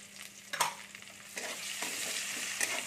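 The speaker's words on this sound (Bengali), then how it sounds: "ভাজা হয়ে গেছে, এর মধ্যে আমি পেঁয়াজ কুচিগুলো দিয়ে দিচ্ছি।" Chopped onions drop into hot oil seasoned with panch phoron and sizzle steadily, with a few sharper clatters of stirring near and loud, for an egg and cauliflower curry.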